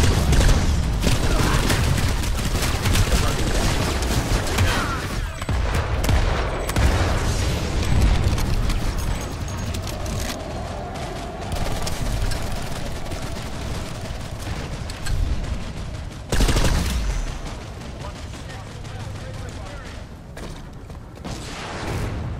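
Gunfire in the video game Planetside 2: dense, continuous volleys of shots and booming blasts from a tower battle, loud and layered throughout with brief lulls.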